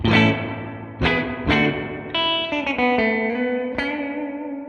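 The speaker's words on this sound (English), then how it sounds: "real spring reverb tanks that don't have that much dwell" Electric guitar chords through a Keeley spring reverb pedal, struck one after another, each ringing out into a drenched, splashy reverb tail that hangs and decays between strums.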